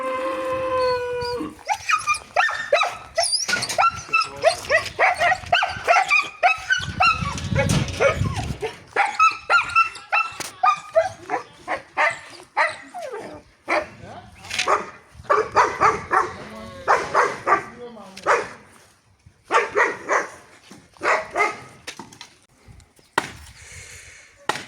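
Dogs at Nyabohanse village bark and howl in rapid bursts while a meal is prepared nearby, loud and close, joined by a rhythmic chopping and a deep rumble partway through.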